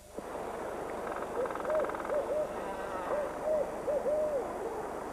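A barred owl gives courtship calls in a forest: a series of rising and falling hoots, several in quick succession, moderately near over a soft background hiss.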